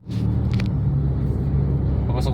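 Steady low engine rumble inside a Honda with a loud aftermarket muffler, creeping through heavy road traffic on Quezon Avenue, with a few faint higher clicks over the constant drone.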